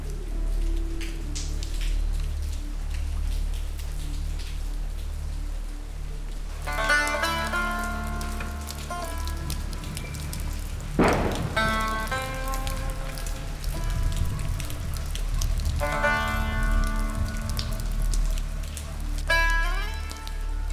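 Heavy rain pours steadily for the whole stretch in Chios, Greece, a dense patter on surfaces, while brief tonal sounds come and go over it.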